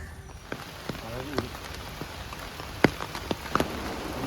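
Rain falls steadily with scattered drops striking a surface, irregular taps standing out against the continuous patter, moderately faint.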